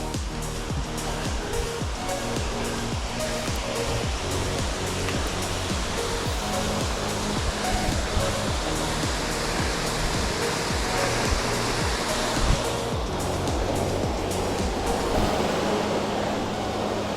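Race Brook Falls, the fifth waterfall along a rugged hiking trail, roars as a steady, loud broadband rush of falling water that runs unbroken and alone, with no voices.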